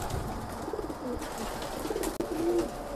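Young pigeons bred from an aging prize-winning pair coo softly and close by, a low rolling call over a steady murmur of background noise, rising to a clearer sustained coo near the end.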